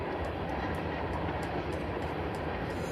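A train rumbles past steadily, a dense continuous roar with faint rhythmic clicks of wheels on rail joints, loud and close throughout with no voices.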